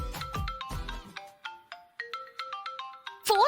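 A phone ringtone chimes alone in a series of bright, evenly spaced electronic tones, fairly loud and close, with a burst of voice at the start and a sudden noisy sound at the end.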